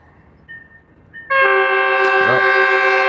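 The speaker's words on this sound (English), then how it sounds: "It's the commuter train." A Metrolink commuter train near Burbank airport sounds its horn in one loud, sustained multi-tone blast that rings steadily to the end. Faint short tones come just before it.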